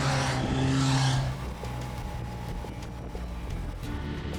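Honda Fireblade motorcycle ridden in third gear on a BSB race team bike, a loud steady engine roar with a brief higher-pitched rise near the start, then continuing under wind noise.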